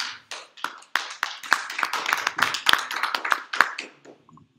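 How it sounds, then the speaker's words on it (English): Church congregation claps in praise of Jesus, a series of sharp, uneven hand claps building from scattered strikes into a brisk, ragged run before trailing off to a few last claps. "Can we give a clap of praise for Lord Jesus Christ?"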